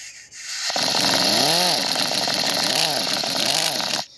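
An Astro 1124 quarter-inch mini impact ratchet with an Onyx-series metal body runs slowly in one continuous burst of about three seconds, an air-driven whir that wavers and warbles in pitch before cutting off abruptly.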